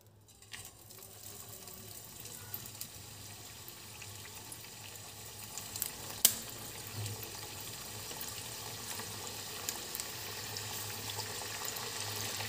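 Puris frying in hot oil in a kadhai give a steady, moderately loud hiss and bubbling that holds for the whole stretch, with a brief sharper crackle partway through and no talking.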